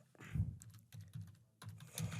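Someone types on a computer keyboard while setting up an online workflow. Quiet, irregular keystrokes come in short clusters with brief pauses between them.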